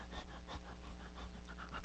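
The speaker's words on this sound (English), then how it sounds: "You're panting." Steady rhythmic panting, likely a dog breathing quickly and close by, with quick repeated breaths and no speech.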